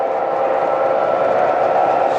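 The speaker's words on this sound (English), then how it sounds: "Slow-moving freight trains always look good in the layout." A model freight train, an Atlas Detroit, Toledo and Ironton engine lashed to three non-powered units, runs slowly on a layout with a steady, even rumble and hum that stays close and constant throughout.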